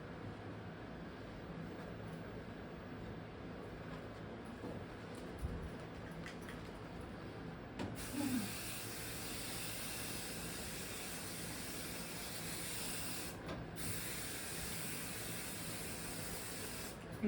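Spray adhesive from an aerosol can hissing in long steady bursts while a quilt sandwich is basted, with a louder stretch midway and a brief break near the end as the can runs low.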